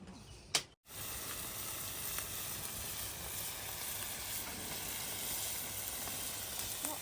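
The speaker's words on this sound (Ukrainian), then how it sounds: "Також будемо смажити на пательню." Steady sizzling of food frying in a pan, a continuous crackly hiss with a brief knock and dropout near the start.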